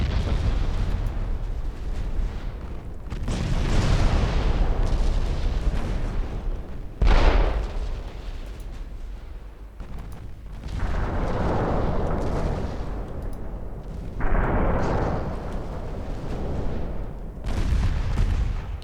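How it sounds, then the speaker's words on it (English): Torpedo hits erupt in a naval battle in Ultimate Admiral Dreadnoughts, with several heavy booming blasts and rumbling bursts rolling one after another, loud and close, with no talk over them. "There are the torpedoes."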